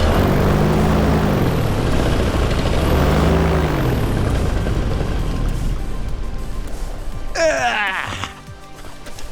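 A paramotor engine drones loudly at takeoff with a buzzing propeller tone that rises and falls, then fades away over the last seconds as it climbs off into the distance.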